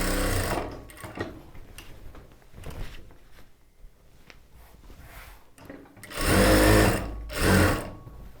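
A sewing machine stitches a churidar top with its main cloth and lining in short bursts, a close rapid mechanical whir that starts and stops several times, with quieter handling noises between runs and a loud final run.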